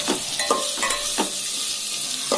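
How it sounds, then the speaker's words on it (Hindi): Finely chopped onions frying in a pan until browned, with a soft sizzle and a few sharp stirring scrapes and clinks close by. "दो मीडियम साइज का बारीक कटा हुआ प्याज ऐड कर लेंगे, लाल होने तक भूनेंगे।"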